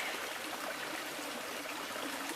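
Quiet, steady trickle of a flowing stream, babbling water with no voices.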